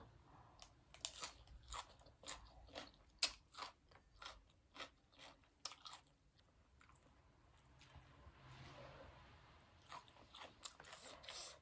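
Crispy oven-roasted pork leg being bitten and chewed close up, a long run of sharp crackling crunches in an uneven rhythm that softens into quieter chewing near the end, with no talking.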